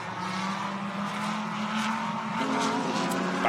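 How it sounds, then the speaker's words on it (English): A Mercedes GT3 race car during qualifying at the 2019 Blancpain GT Series Asia round in Thailand gives a deep, steady engine drone that rises slightly in pitch partway through, heard continuously at moderate distance with no talk. "Great rumble. The Mercedes makes such a fabulous sound."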